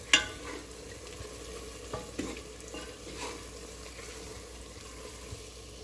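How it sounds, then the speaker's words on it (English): A pot of spinach okra soup is stirred, soft spoon scrapes and light clinks recurring over a quiet bubbling simmer, close and fairly faint. "I'm going to stir. I'm going to let it cook for only a minute"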